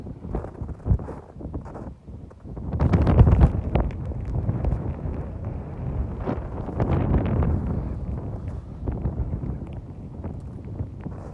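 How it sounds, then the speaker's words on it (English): Strong wind buffets the microphone at a snowy ski resort, a loud, continuous low roar with gusty surges, swelling sharply partway through and staying rough and unsteady to the end. "And it's very windy."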